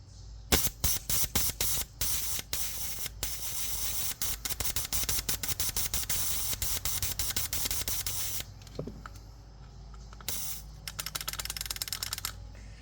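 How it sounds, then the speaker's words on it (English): A pressurized fuel injector being cleaned with carburetor cleaner sprays fuel in loud, hissing bursts over a rapid run of sharp clicks, then eases into softer, more scattered spurts. "So, as you saw this fuel spraying out, it was also cleaning the injector."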